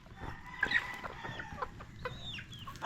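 Chickens cluck and squawk softly at close range while being fed, with scattered short calls and a sharper cackle at the end over a low background.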